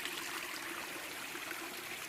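Mountain stream and waterfall along a trail, a steady, broad rush of falling and flowing water, even and continuous, moderately distant with no voices.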